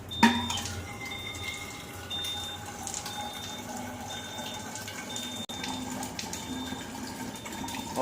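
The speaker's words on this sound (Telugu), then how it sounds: "ఇప్పుడు బ్యూటీ వాటర్ వచ్చేసి ఒక 2 లీటర్లు మనం తీస్తున్నాం." Beauty water pours from a Kangen SD501 water machine into a container, a steady faint trickle and fill sound with soft hums and beeps from the machine in the background.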